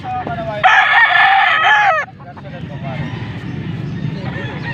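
A young stag gamecock of Talisayin colouring lets out one loud, close crow, followed by the low murmur of a small crowd at a Pampanga cockfighting market.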